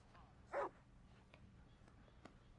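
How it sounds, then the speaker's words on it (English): A single short bark from a Labrador in the video game Red Dead Redemption 2, faint and brief, rising once over a low background hum. "The dog, because he's an adorable dog. He's a lab."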